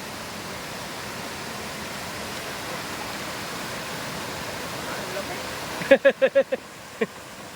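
Cold water rushing in a stream, a loud, steady broadband wash close by, broken near the end by a short series of sharp, rhythmic knocks.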